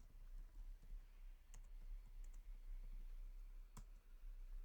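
A handful of sparse, quiet key clicks on a computer keyboard while a password is entered, scattered irregularly over a faint low hum.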